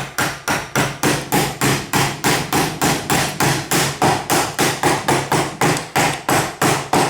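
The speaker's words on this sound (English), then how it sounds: "using my wooden mallet, I can drive this in." A wooden mallet strikes a homemade star nut setter tool, driving it into a bicycle fork's steer tube held with vise grips: about two dozen sharp, evenly spaced knocks, loud and close.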